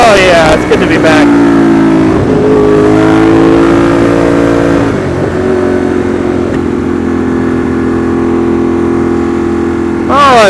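Ducati Monster 821 motorcycle, a 2015 model, running steadily while ridden, its engine a continuous loud drone with shifting harmonics as the revs change, with wind rush and a voice talking over it.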